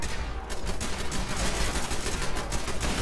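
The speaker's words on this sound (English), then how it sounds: "What are you shooting at?" Rapid gunfire in the video game Fallout 4, a dense burst of overlapping automatic shots that rattles on loudly and continuously without pause.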